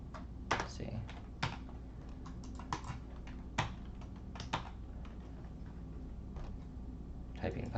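Irregular clicking of keys on a computer keyboard, quick clusters of taps with brief pauses, close and fairly quiet over a low hum.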